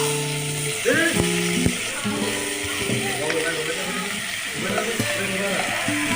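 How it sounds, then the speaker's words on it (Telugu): Chopped tomatoes fry in a pan with a steady, soft sizzle that runs under a voice, and faint stirring clatter can be heard throughout. "ముందుగా మనం కోసి పెట్టుకుని ఉంచుకున్న టమాటాలు వేయించుకోవాలి."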